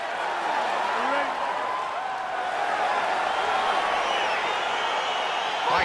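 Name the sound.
crowd cheering in the EA Sports UFC 4 video game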